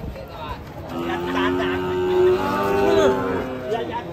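Agitated cattle bellow in long, rising moos close by, several calls overlapping amid crowd noise and people talking.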